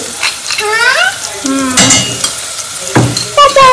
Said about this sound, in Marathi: तर इथे ते पण मस्त फ्राय करून घ्यायचे छानपैकी